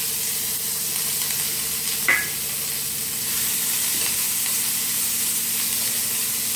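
Steady sizzling as onions and chillies sauté in oil in a pan, a continuous hiss with a brief clink of stirring partway through.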